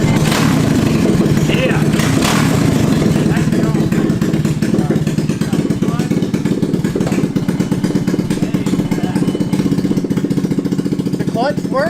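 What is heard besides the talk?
racing engine cranking over and running in a mini jeep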